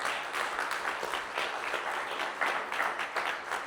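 Loud, sustained applause from a church congregation, a dense wash of clapping that holds steady for several seconds with no speech over it.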